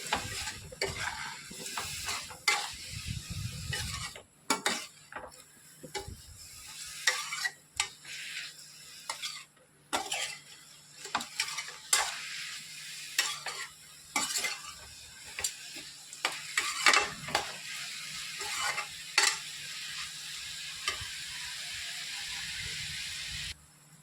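Raw banana fry with onions being stirred in a hot pan, a spatula scraping and clicking in irregular bursts over a soft, steady sizzle, close and moderately loud with no talking.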